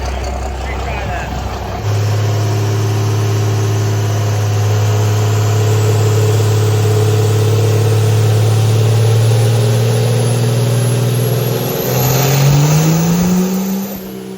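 A diesel engine running on jet fuel under load on a dyno, a loud steady low roar that builds after a couple of seconds and shifts pitch near the end, with voices over it.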